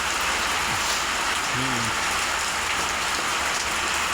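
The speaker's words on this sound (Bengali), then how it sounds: "এই যে আজকে দুপুর থেকে বৃষ্টি শুরু হয়েছে, এই যে দেখেন সেই প্রচুর বৃষ্টি।" Heavy afternoon rain falls on a market at Tarapur in Rupganj, Narayanganj, a loud, unbroken roar of drops on surfaces close by, with a faint brief voice in the background.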